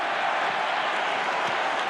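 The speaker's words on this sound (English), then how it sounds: "The crowd had just started to come back into this game too in the last couple of minutes." Large stadium crowd at an AFL match between Carlton and Essendon, a steady broadband roar of voices filling the ground without pause, loud and distant at once with no distinct claps or shouts standing out.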